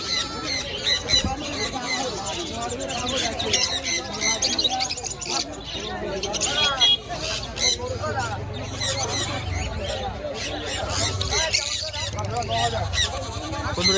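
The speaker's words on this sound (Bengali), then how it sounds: "লাভ বার্ড কেমন করে খাঁচার মধ্যে খেলছে দেখো" Lovebirds at the Birnagar bird market squawk and chirp busily inside a cage, sharp repeated calls over a continuous murmur of crowd noise and nearby voices.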